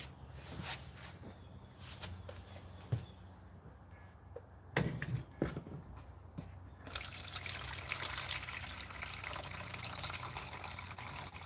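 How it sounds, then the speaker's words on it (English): Water being poured onto worm bin bedding of shredded newspaper, a soft steady trickle and splash that builds and continues to the end, fairly quiet with no talk. "All right, let's pour the water into these ones."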